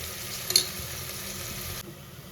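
Onions sautéing in a pan for chicken kurma, a steady soft sizzle with a brief stirring scrape, fading slightly toward the end.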